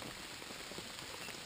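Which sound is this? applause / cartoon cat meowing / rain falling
rain falling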